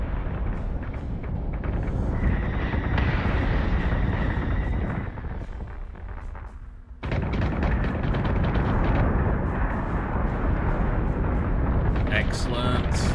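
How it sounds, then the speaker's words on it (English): Volleys of torpedoes fired by two battlestars in the space combat game BSG: Deadlock detonate as a dense, roaring wall of explosions, with a short lull midway before the blasts resume; a voice speaks over part of it. "that was three full volleys of torpedoes from two battlestars"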